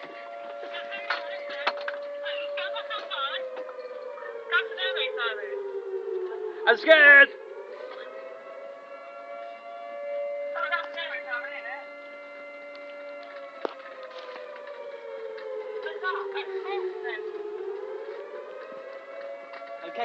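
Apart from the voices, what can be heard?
air raid siren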